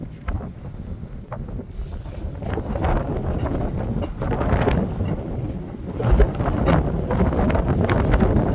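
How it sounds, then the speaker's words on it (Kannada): Strong monsoon wind buffets a hilltop viewpoint, roaring in heavy gusts that rise and swell, with deep rumbling blasts across the microphone. "ಸಿಕ್ಕಾಪಟ್ಟೆ ಗಾಳಿ ಬೇರೆ"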